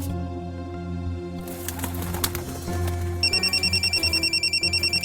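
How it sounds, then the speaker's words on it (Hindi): A mobile phone rings for an incoming call over continuous background music, a rapid pulsing electronic trill entering partway through and repeating steadily, close and clear. "फिर कॉल आ रही।"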